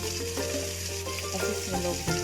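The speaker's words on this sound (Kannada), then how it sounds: "ಆಮೇಲೆ ಒಂದು ಮೊದಲೇ ಇಟ್ಟಿಟ್ಕೊಂಡಿದ್ದೀನಲ್ಲ ಈರುಳ್ಳಿ, ಅದನ್ನು ಆ್ಯಡ್ ಮಾಡ್ತಾಯಿದ್ದೀನಿ" Onion sizzles in a hot pan with mustard seeds during home cooking of a Karnataka avarekai dish; a continuous close, bright frying hiss with light stirring scrapes, and no talking.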